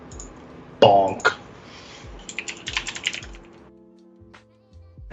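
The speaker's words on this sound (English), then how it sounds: "You may have heard me typing there." Short bursts of computer keyboard typing, quick uneven key clicks close by, with a cough and a few thumps in a quiet room.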